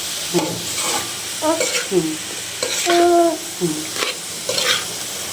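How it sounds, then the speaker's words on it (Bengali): Shrimp being stir-fried in a pan at home, with repeated stirring scrapes and a steady sizzle of frying, close and clear, no talking. "আজকে চিংড়ি মাছ দিয়ে ভাজি করলাম।"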